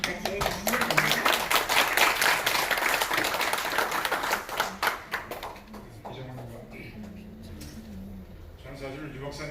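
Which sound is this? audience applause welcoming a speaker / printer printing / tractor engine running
audience applause welcoming a speaker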